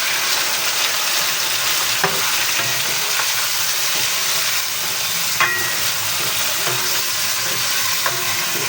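Marinated chicken liver and gizzard hitting a hot pan for caldereta, a loud continuous sizzle and crackle close up, with a few sharp utensil clinks as it is stirred.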